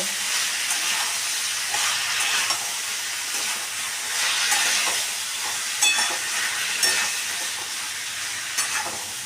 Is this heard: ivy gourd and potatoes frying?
yes